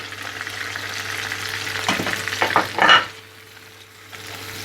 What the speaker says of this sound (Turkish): Soğanlarımız renkleri dönene kadar kavuracağız